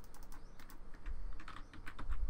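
Rapid, quiet clicking from a computer mouse and keyboard during a House Flipper game session, with irregular clusters of light taps close up.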